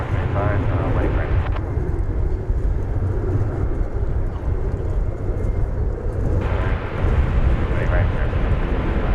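A jet airliner lands at DFW Airport, its broad, loud roar filling the scene steadily from start to finish, while people talk over it.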